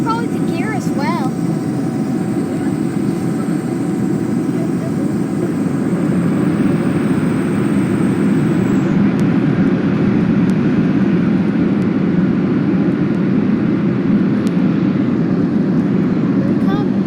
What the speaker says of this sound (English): There's the flaps. Going down. That's probably the gear as well.